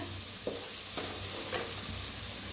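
Spices roasting in oil in a pan over low heat, a steady close sizzle with a few soft scraping stirs at intervals and no talking.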